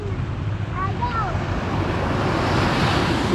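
Sea waves and wind roar steadily at the shore, a loud broadband wash with wind buffeting the microphone and faint voices briefly in the background.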